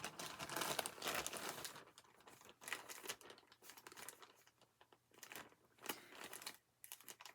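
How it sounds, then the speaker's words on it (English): A plastic reusable shopping bag from an online haul is torn open along its perforated line, close and quiet, heard as bursts of crinkling and ripping plastic with short pauses between pulls, and no voice. "so they're saying this is a reusable bag right here, but I'm going to open it. Please tear open this line."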